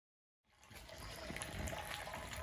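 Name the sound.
concentrated maple sap flowing through reverse osmosis filter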